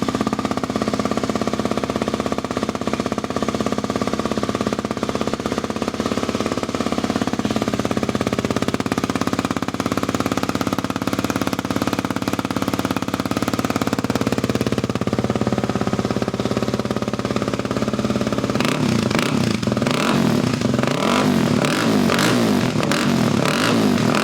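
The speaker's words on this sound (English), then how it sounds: "Exhaust is on, let's put it back together and do a sound check." A Kawasaki KLX300 dirt bike with a Yoshimura RS-2 exhaust idles and revs loudly up close, a steady rumbling throb that shifts into choppier, rising revs toward the end.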